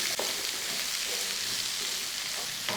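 Capsicum sizzling and frying in a pan while being stirred for a home-style Kerala egg chilli, a steady close crackle with a few scraping stir sounds.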